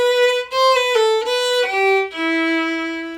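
A violin plays a short phrase of a fiddle reel, a handful of bowed notes with a quick triplet of three notes in the middle, ending on a held lower note, clear and close with nothing else present.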